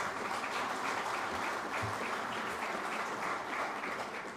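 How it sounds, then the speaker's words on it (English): Sustained audience applause filling a hall at an oil and gas awards dinner, dense steady clapping from many hands lasting throughout without pause. "I think you should applaud your own hands."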